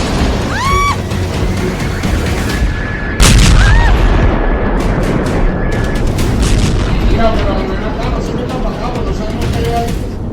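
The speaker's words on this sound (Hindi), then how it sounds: "वेनेजुएला में हुए एक के बाद एक 7 जगहों पर बड़े धमाके।" A sudden heavy boom from an explosion in Venezuela breaks through a dense, noisy mix with voices talking, followed by a sustained loud rumble that stays elevated for several seconds.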